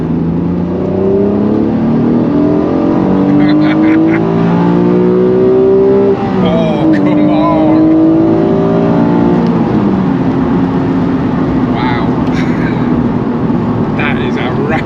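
A Honda NSX sports car engine revs and accelerates through the gears, rising whine shifting down and climbing again, heard from inside the cabin with steady road roar.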